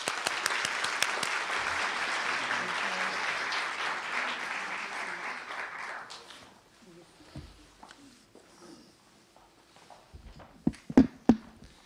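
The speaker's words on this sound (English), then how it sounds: "Let's give them a round of applause." Applause greets panelists coming onstage at a food policy panel, a dense steady clatter of many hands for about six seconds before fading into quiet room noise, footsteps and brief knocks.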